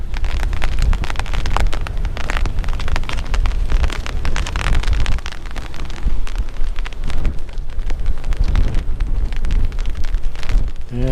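Strong gusts roar over Organ Mountain with spitting rain, a loud, continuous buffeting rush mixed with patters of drops and no voices.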